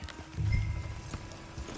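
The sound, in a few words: horse hooves clip-clopping in a video game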